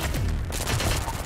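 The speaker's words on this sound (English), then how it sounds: "Like a submachine gun" Dense, rapid submachine gun fire from the online shooter game Blacklight Retribution, a loud continuous burst of overlapping shots filling the brief moment.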